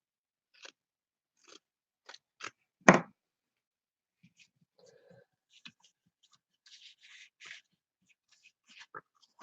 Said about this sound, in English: So this is a very large piece of lace. So I'm going to cut a piece of this.